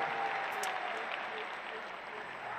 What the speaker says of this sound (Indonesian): Beri tepuk tangan untuk seluruh jajaran Amanat Indonesia.